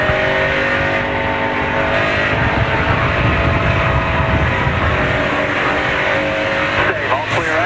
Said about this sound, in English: Could hear the tires squealing, even over the race engine.